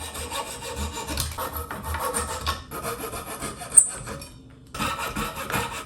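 Protruding wooden dowels tapped into a repaired chair leg are roughly trimmed by hand, giving a close, raspy rubbing and sawing sound in uneven strokes that pause briefly before resuming.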